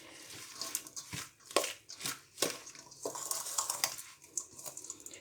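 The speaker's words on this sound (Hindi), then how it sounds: "तो यहाँ मैं इनको मिक्स करूँगी अच्छी तरह ताकि मसाले जो मैंने डाले हैं वो सब मिक्स हो जाएं।" Potato and cauliflower kabab mixture being mixed with spices by hand, a quiet series of irregular squishing and crunching pats close by with no talk.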